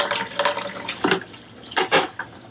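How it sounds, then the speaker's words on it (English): Water rushes through the opened service valves of a Navien tankless water heater being descaled, a close, steady splashing flow with a few louder surges. "Now we turn these service valves on. And it's just going to release water in"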